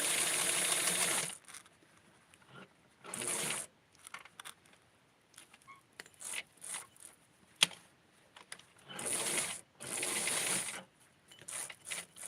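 Sewing machine stitching a custom lace doll outfit, several short separate bursts of quick needle whirring between quiet pauses filled with small clicks and handling noises, close and clear, no talk.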